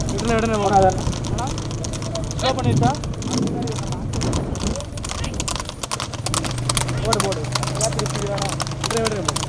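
Racehorses galloping in a horse race in Coimbatore, a rapid drumming of hooves under continuous excited commentary from a race announcer.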